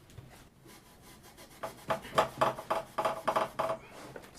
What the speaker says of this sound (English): The next step is steel wool. Steel wool will get rid of the smaller scratches.